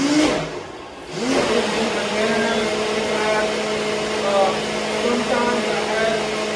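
A blender whirs loudly and steadily while crushing ice for a frozen plant-based dessert, a constant close motor drone after a brief dip at the start.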